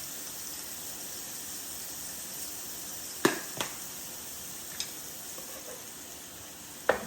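Steak seasoned with Worcestershire and Montreal steak seasoning frying in a pan for a Philly cheesesteak, giving a steady faint sizzle throughout, broken by a few sharp clicks and taps from a utensil.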